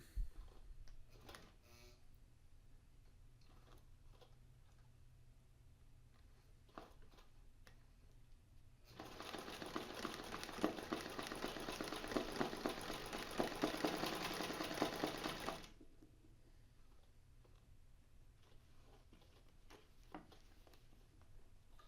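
A home sewing machine stitches over the ends of fabric in one steady run of about seven seconds, an even mechanical whir with rapid ticking, preceded and followed by quiet faint clicks.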